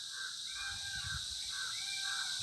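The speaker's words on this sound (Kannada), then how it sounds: "ನವಿಲಲ್ಲಮ್ಮ ಅದು, ಕಾಗೆ, ಕೆಂಪು ಕಾಗೆ." A red crow, or coucal, calls from somewhere in a mango orchard beside a cattle shed, giving a few faint, distant hoarse calls over steady insect buzz.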